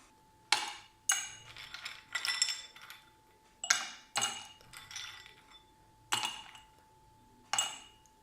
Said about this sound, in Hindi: इसमें मैं क्यूब्स डालूँगी कुछ,